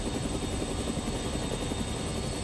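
Helicopter rotor blades in the Dead Rising video game, a steady rapid thumping chop with a constant whine, moderately loud and alone.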